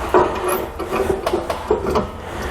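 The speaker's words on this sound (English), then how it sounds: "So we'll just go ahead and thread these in now." Half-inch bolts being threaded by hand into the mounting rails of a fifth wheel hitch in a 2019 Chevrolet truck bed: a close, soft scraping and rubbing with small irregular metallic ticks, with no talk.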